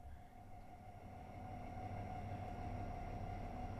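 Locomotive in the Frankenbahn route of Train Sim World 6 powering up, a steady low rumble with a sustained tonal hum that grows slightly louder after the first second and then holds, with no talking.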